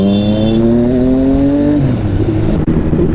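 A motorcycle engine drones loud and close during a ride, its pitch climbing steadily as it accelerates, then dropping into a rougher, rumbling note, with wind buffeting throughout.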